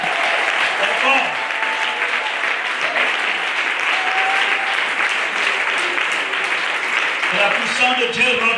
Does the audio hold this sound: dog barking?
no